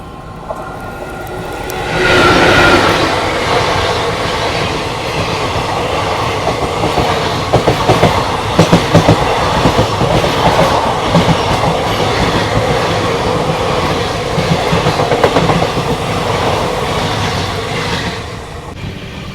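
Train running on rails while overtaking another train on the LTT Mumbai–Chennai Express route: loud, steady rumble with rhythmic clickety-clack of wheels and metallic rattles, close and continuous.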